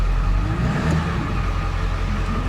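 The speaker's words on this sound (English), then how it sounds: "Yeah, power steering making a lot of noise." A 1999 Ford F350 pickup with the 7.3L PowerStroke diesel idling loud and close, a steady droning rumble with a faint whine from the noisy power steering running through it.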